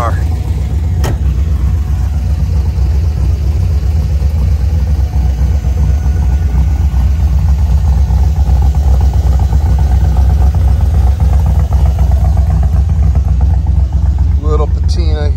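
A 1971 Camaro RS with an LS V8 making 500 horsepower and a 4-speed automatic, running with a steady, deep engine rumble that stays loud and continuous throughout.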